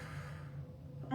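A single deep, breathy inhale is taken during a core exercise session. It is quiet and close, lasting about a second and ending as a voice begins.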